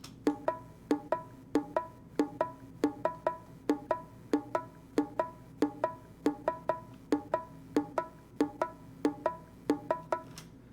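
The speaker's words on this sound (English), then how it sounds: "So the bongos by themselves sound like this." Bongos tap out a simple repeating pattern, crisp sharp hits in an even rhythm, heard alone and fairly close.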